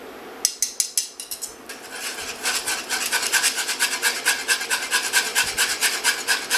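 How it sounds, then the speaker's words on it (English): Egg mixture is whisked steadily into hot bechamel for a Greek pastitsio: after a few separate metal taps, a fast, rhythmic scraping whisk against the pot runs on close and loud, with no talking. "So now we're going to whisk our egg mixture back into the hot"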